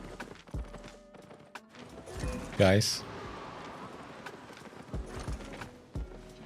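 Horse hooves clip-clop in the video game Albion Online, soft and steady beneath a player's talk, with a brief whinny partway through.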